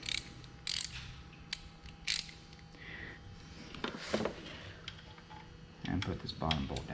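Small hand ratchet tightening the lower thermostat housing bolt on a Dodge/Chrysler/Jeep 3.6 V6, heard as sparse, close clicking bursts against a low workshop hum, with a brief thud partway through.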